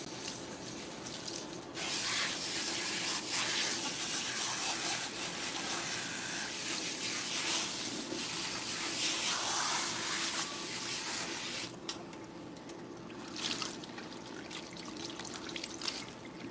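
Water from a spray bottle sprayed onto a woman's hair to wet it down at a salon, steady close hissing bursts running through most of the stretch, pausing briefly near the end.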